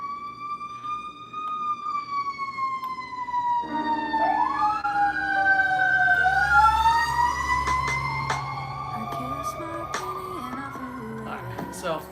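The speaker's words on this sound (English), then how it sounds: "fire engine." A fire engine siren wails loudly and close, rising and falling in long sweeping tones, with a second pitch joining midway and other background sound underneath.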